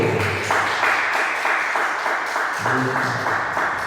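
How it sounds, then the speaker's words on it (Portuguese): Congregation applauding the Lord in a Portuguese-speaking church service, steady dense clapping throughout with a low voice murmuring briefly underneath. "Vamos aplaudir ao Senhor."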